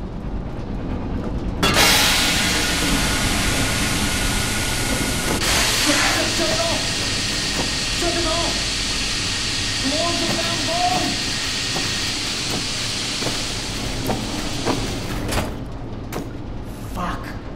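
In the Metro Awakening video game, steam hisses loudly and steadily from pipes for most of the stretch, then cuts off near the end.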